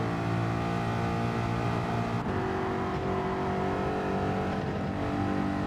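Gr.4 Ford Mustang race car engine held at full throttle in Gran Turismo 7, a loud, steady, high-revving roar with a brief dip in pitch near the middle, continuous and alone.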